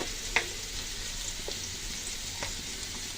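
A taro and puti fish curry sizzles steadily in a pan with a constant hiss of frying, broken by a few light clinks of a spoon stirring.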